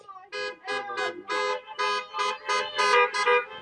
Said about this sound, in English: until there was a honk